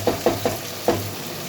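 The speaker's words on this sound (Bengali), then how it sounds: "দেখুন আমি টমেটো অ্যাড করলাম, তারপর কিছু নাড়াচাড়া করবো কিছুক্ষণ" Tomatoes frying in a pan for biryani, stirred with four quick spoon scrapes in a short burst over a low sizzle and steady hum, close and fairly loud with no talk.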